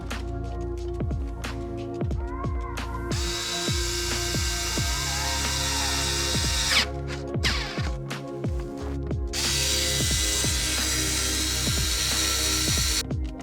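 Power drill driving a bolt while a car sun visor is installed, a continuous close whirring motor with repeated pitch swoops as the trigger is feathered, steady and loud throughout, no talk.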